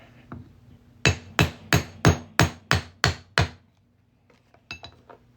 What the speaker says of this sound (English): Now we're going to hammer that right on through our coin.